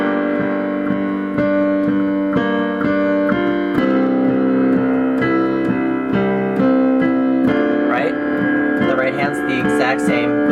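Slow piano rendition of a song, sustained chords and a steady melody line ringing out continuously, close and full, with no voices.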